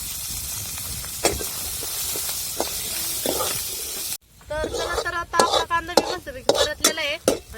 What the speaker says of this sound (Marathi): कांदा टाकून मस्त परतून घ्यायचा